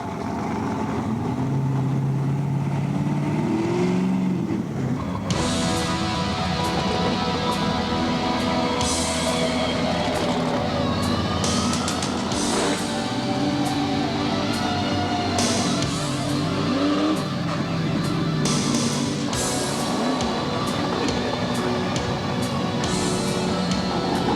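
Custom show cars cruise along International Drive in Orlando, engines rumbling and revving loudly and continuously, with passing vehicles, traffic noise and scattered crowd sounds mixed throughout.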